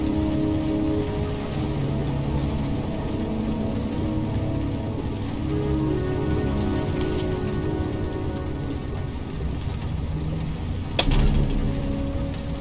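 Rain falls steadily in the video game Heavy Rain, a constant close hiss of drops on surfaces with a brief sharp clatter near the end and no talking.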